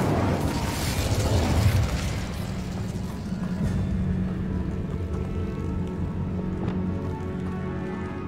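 An Incendio fire spell cast in Hogwarts Legacy: a loud burst of roaring, crackling fire that blooms at the start and then settles into a steady, sustained rumble.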